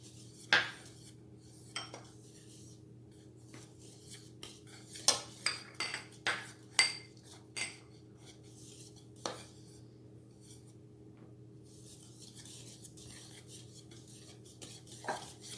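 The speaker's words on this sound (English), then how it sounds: "In a separate bowl, we're going to whisk together our dry ingredients." Flour, salt, baking powder, flaxseed and brewer's yeast being whisked together in a separate bowl for cookie dough, heard as a series of soft scraping strokes and clinks against the bowl over a steady low hum, with busier taps midway.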